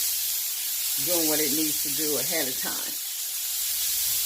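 Garlic sizzling in bacon fat in a pan gives a steady broadband hiss all through, with a person talking over it in the middle.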